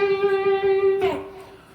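A short electric guitar run: a sustained, bright note with vibrato rings for about a second, then a quick slide and a final fading note, played alone.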